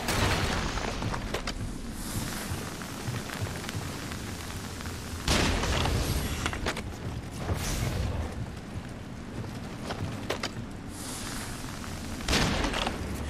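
Gunshots in the Nioh video game, several loud sharp cracks spaced a few seconds apart over continuous rumbling game noise.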